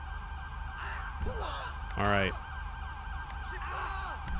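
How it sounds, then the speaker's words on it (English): An ambulance siren wails in GTA V with the LSPDFR police mod, a moderate warbling tone running steadily under a brief spoken remark and background game sounds. "I think that's the ambulance that is finally showing up."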